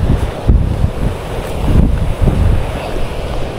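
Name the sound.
big ocean waves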